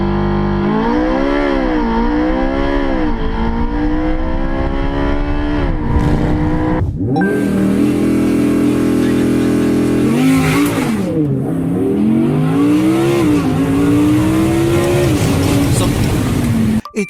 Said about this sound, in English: It's the Audi R8 V10.